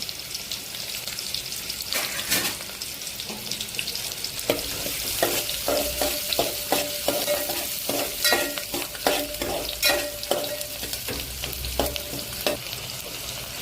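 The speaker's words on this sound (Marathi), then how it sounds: "मी आता ह्याला फोडणी मारते। अख्खा मसाला सगळा, हा अख्खा मसाला पण टाकते।" Oil crackles and sizzles steadily in a hot pan as whole spices fry, with sharp popping spits and occasional stirring scrapes.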